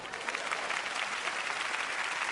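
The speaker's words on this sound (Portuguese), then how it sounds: "Vamos dar a ele um aplauso." A church congregation applauds, giving a steady, dense wash of clapping that fills the short moment without any talk over it.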